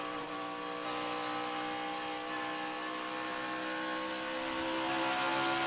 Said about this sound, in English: You can hear the guys working that throttle. It's never all the way wide open.